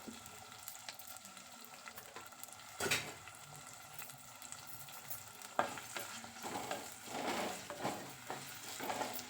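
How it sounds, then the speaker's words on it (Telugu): Onions, green chillies and curry leaves fry with a little salt in a pan, a soft steady sizzle broken by occasional scrapes and clinks of stirring, with a sharper knock near the middle. "కొంచెం సాల్ట్ వేసి ఉల్లిపాయలకి తగ్గట్టు వేయించుకోవాలి"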